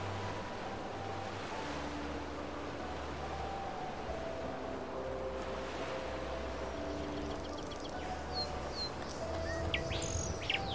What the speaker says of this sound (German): Da ist noch so ein Vogel